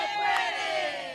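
A crowd of migrants cheers and shouts at a celebration on the front lawn of the Vermont State House, a sustained, loud roar of many voices.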